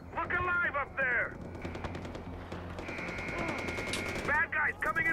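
Gunfire rattles in the middle of a Far Cry 4 firefight, sustained bursts sitting under a high whine and bits of voice at the start and end of the stretch.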